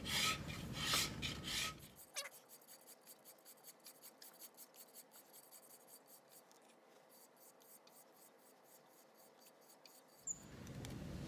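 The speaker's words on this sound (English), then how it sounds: "I'm definitely going to take it down with a SureForm just to even it" A Surform rasp scrapes along the edge of a plaster hump mold in a quick series of light, scratchy strokes, close but fairly quiet, framed by louder handling noises at the start and end.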